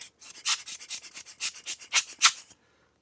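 Machined steel slide valve for a PM Research PM#1 steam engine rubbed back and forth on sandpaper, a quick series of about a dozen close, raspy scrubbing strokes lasting a couple of seconds, then stopping.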